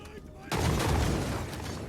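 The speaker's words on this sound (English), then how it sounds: "So already they're firing off their guns." Musket volleys crackle from a pike-and-shot battle in Total War, a sudden dense burst of overlapping gunfire that starts mid-clip and keeps rumbling, loud and close.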